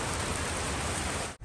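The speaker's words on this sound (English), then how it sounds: "And now it's raining." Steady rain falling in Costa Rica, a dense, even hiss that holds throughout and cuts out briefly just before the end.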